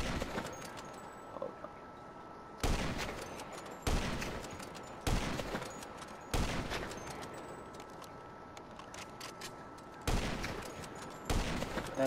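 Sniper rifle fire in Grand Theft Auto V, about seven sharp, loud shots spaced irregularly over twelve seconds, each cracking out and decaying into a short echoing tail over quiet background.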